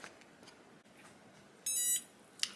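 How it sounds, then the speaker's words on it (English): A small timer buzzer used during a mason jar sublimation project gives a short, shrill electronic beep lasting about a third of a second, then a brief chirp, over a faint, quiet room. "my timer is going off. The little buzzer is going off."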